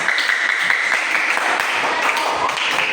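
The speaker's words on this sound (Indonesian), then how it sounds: "Tepuk tangan untuk kita semuanya." In a classroom lesson on artificial intelligence, students break into clapping, a fairly close, busy patter of many hands that holds steady throughout.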